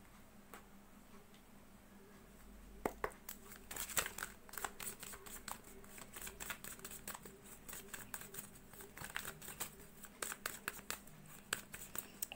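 Tarot cards are handled and shuffled close by, giving quiet irregular clicks, ticks and papery crinkles that come in scattered bursts against a soft room hush.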